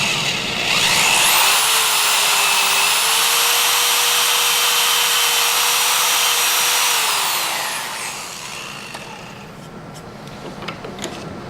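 A power drill bores a hole through wood for a handmade pen, whining loudly and steadily for about seven seconds before spinning down, followed by quieter handling noises.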